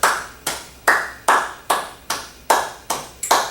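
Hands clap a steady rhythm in a music theory lesson, eight sharp claps spaced evenly about half a second apart with a quick extra clap near the end, close and clear with no talking.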